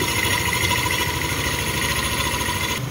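A motorcycle engine idles steadily during fuel-injection throttle body cleaning, a close, even mid-pitched rumble with constant vibration and no talk.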